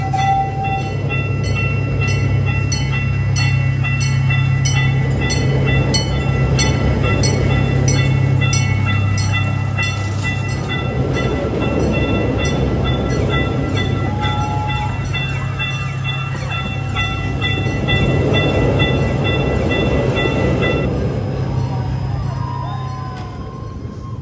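An amusement park train at Kemah Boardwalk, Texas, rumbles past at length with a continuous rolling clatter. High whistle-like tones ring over it, and the noise swells and fades as it goes by.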